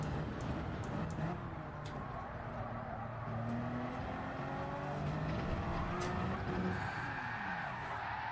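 A Toyota Supra race car in Gran Turismo drones through a long run, its engine note rising and falling steadily with faint tyre squeal, moderately quiet and alone.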